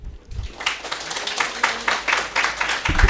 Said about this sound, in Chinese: 那我们就掌声欢迎他。